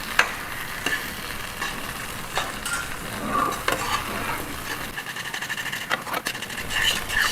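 Steady scraping and stirring of halwa with a flat spatula in a pan over a high flame, with soft sizzling frying beneath and a few sharper utensil knocks against the pan throughout, close and continuous without speech.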